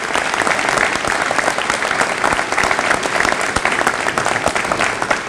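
Sustained applause from a graduation audience honoring caregivers at the R-MA 2017 ceremony, dense, steady clapping filling the hall at close range without pause.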